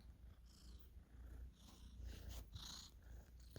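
A pet cat named Opal purrs close to the microphone, a soft continuous rumbling with faint rustling and snuffling over it, quiet and without talk.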